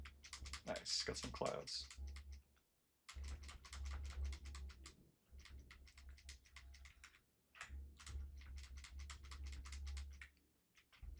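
Computer keyboard keys tapped in quick bursts while flying around terrain in a game being built with Godot, close rapid clicks in several runs under a low hum, with someone speaking briefly at the start.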